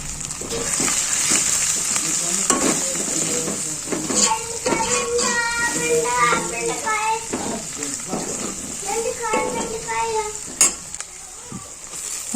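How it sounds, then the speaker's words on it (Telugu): Onions with turmeric fry in a pan for mutton curry, a continuous sizzle with scraping spoon strokes against the metal, while a voice talks over much of it. "ఆనియన్స్ అవి లైట్గా ఫ్రై అయ్యాయి కదా ఇప్పుడు సరిపడా పసుపు వేసుకున్నానండి"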